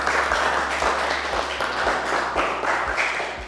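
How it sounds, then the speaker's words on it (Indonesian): Classmates applaud a student in an Indonesian classroom lesson, a sustained patter of clapping hands with a few sharper claps standing out, fairly close, with a low hum running beneath. "Tepuk tangan untuk Hanun."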